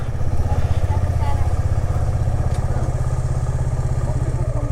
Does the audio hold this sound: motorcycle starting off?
yes